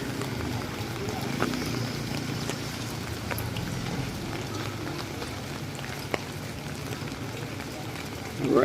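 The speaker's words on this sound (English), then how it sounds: "Rainy days." Steady rain falls on a street during a rainy day in the Philippines, a constant hissing patter with occasional louder drops, close and even throughout.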